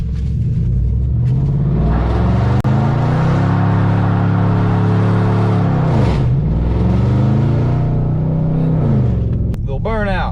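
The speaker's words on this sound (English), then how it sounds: "Let's pause to do a little burnout." A car does a burnout on a back road, its engine roaring and droning loudly and steadily with revs rising and dipping, close and continuous throughout.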